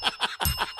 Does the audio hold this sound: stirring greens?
no